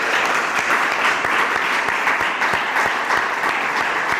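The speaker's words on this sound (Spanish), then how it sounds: "No aplauden tanto" A lecture audience claps loudly and continuously, a thick, even wash of applause at close range that carries on without a break and without talking.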